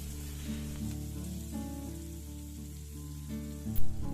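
Chopped onion and cut potatoes fry in a pan with a steady, moderate sizzle and a light stir, over a constant droning hum, ending with a brief louder clatter.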